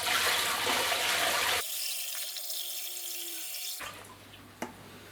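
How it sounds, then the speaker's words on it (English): Fresh dechlorinated tap water pours into an Aquascaper 600 Iwagumi aquarium tank, a steady broadband splashing rush that briefly gives way to a quieter trickle before the pour resumes. "Simply place it across the top of the tank like that, and then I can pour the water in relatively quickly"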